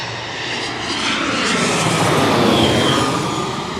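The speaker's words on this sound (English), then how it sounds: "A little bit of a throttle back on that one there." An airliner on approach to LaGuardia Airport in Queens, New York, throttles its jet engines back, a loud, steady broadband roar that swells slightly and holds, with no voices.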